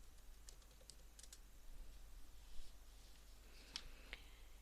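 Soft, sparse keystrokes on a computer keyboard enter an operator password, a few faint clicks with short pauses over a low, steady hum.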